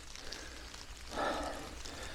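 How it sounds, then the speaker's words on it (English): Rain beginning to fall in woodland, a soft steady patter of drops with a brief swell in the middle, fairly faint and without voices. "now it's starting to rain"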